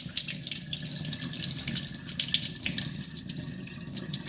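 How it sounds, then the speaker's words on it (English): Tap water runs steadily into a sink while basmati rice is washed, a close, continuous splashing rush with small bubbling variations throughout, no voices. "So when you're washing rice, let the water run."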